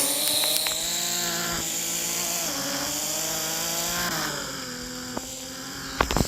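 A steady Ford Mustang engine drone holds a constant pitch with slight rises and dips, running continuously and fairly loud, with a couple of sharp clicks near the end.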